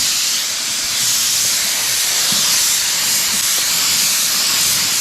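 A spray gun hisses loudly and continuously while applying base coat paint to a new truck being repaired after tornado damage, a close, steady airy spray with no pauses.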